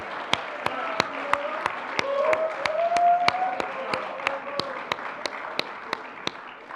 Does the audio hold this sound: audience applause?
yes